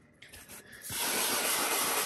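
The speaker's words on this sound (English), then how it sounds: "I'm just gonna spray just a little bit." After a short pause, a spray bottle lets out one sustained, close hiss of cleaner mist onto a white Tesla leather seat that carries on to the end.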